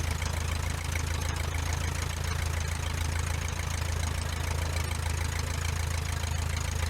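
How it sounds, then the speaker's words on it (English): A Luscombe airplane engine runs up before takeoff on a hot, nearly calm day, a steady loud drone with low rumbling vibration throughout, no voices. "Let's do a run up here."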